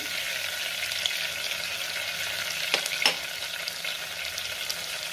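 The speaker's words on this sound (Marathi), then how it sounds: "तेल आणि बटर गरम झालेले, त्यात जिरे घातले, त्यातच आपल्याला टेचलेला लसूण घालायचा आहे" Cumin seeds and crushed garlic frying in hot oil and butter for a dhaba-style akkha masoor. A steady, close sizzle runs throughout, broken by a couple of brief stirring clinks near the middle, with no talking.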